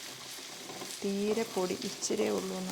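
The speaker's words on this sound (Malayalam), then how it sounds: "അങ്ങനെ രണ്ടാമത്തെ ലോട്ട് ഇഞ്ചി കഷ്ണങ്ങളും നമ്മൾ വറുത്ത് കോരി." Pieces of ginger fry in hot oil for an Onam sadhya ginger curry, a soft continuous sizzle running beneath someone speaking.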